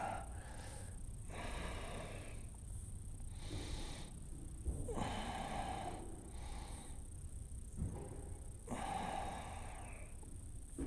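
Steady, deep breathing through a strong vinyasa yoga flow, long inhales and exhales repeating in a slow rhythm, close and audible with no talking over it.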